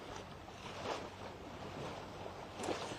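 Water washing and splashing along the bow of a sailboat at sea, heard from the foredeck with the engine off: a steady, close rush of moving water with wind noise, swelling slightly near the start and end.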